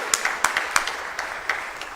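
A church congregation claps at a spring meeting, sharp distinct hand claps in an irregular patter from a modest group in a reverberant hall, without talk.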